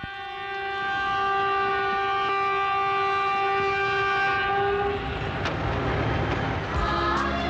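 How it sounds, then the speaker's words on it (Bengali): A train rolls into a station with a long, loud horn sounding steadily for several seconds, then fades into rumbling wheels and clanking carriages as it slows to a halt. "দাদা ট্রেন নিশ্চয়ই এসে গেছে"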